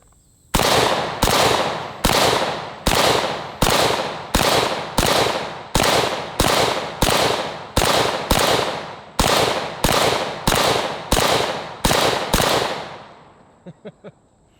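An AK rifle fires 7.62 and 5.45 rounds outdoors in a long run of loud, sharp single shots at a steady pace of roughly one every three-quarters of a second, ending with a few fainter pops.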